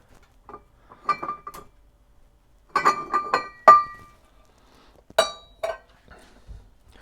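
Glass cups and metal spoons clink in short, scattered bursts while cups are handled during a home coffee cupping of dark-roasted Nicaraguan Matagalpa Esmeralda beans, close and fairly quiet with pauses between taps.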